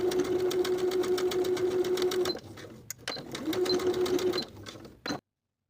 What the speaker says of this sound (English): Sew this small section together from the notch, backstitching to secure and also backstitching at the end of your stitches.